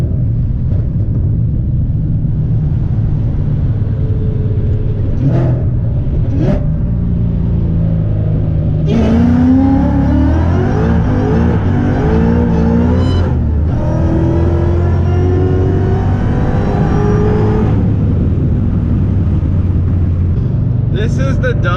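A car engine revs and rumbles steadily while driving on oversized tires, the loud drone rising and falling through shifts, with someone talking and swearing over it throughout.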